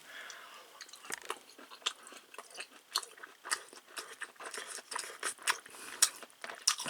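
Close, crisp chewing of gas-grill-broiled beef short ribs cooked at home, a steady run of wet crunchy bites and mastication clicks filling the whole stretch, with no talking.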